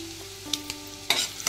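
Asafoetida and turmeric temper in hot oil and get stirred, with a low crackle and a few sharp scraping bursts from a spoon against the pan.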